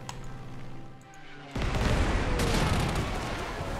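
Artillery fire in the video game Panzer Corps 2 arrives as a sudden heavy blast that swells into a loud, sustained rumble of booms after a quieter stretch of low hum.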